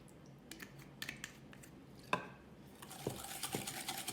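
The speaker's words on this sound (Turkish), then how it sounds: "Şekerler eriyene kadar tereyağını sıcak değil şöyle biraz karıştırıyorum" Faint, sparse clinks and scrapes of a utensil stirring butter and sugar in a pan as the sugar melts, a few sharp taps against the pan over a quiet background.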